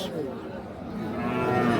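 Sahiwal cattle at a busy cattle market, with a drawn-out low moo rising under steady crowd chatter and nearby voices, close and continuous throughout.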